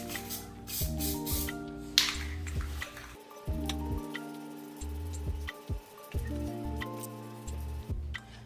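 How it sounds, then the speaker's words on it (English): An aerosol spray can lays a thin first coat of peelable silver coating on an Audi B8.5 front bumper lip, giving short hissing bursts near the start, followed by quieter stretches under a steady, tonal background. "We're gonna lay down the first coat,"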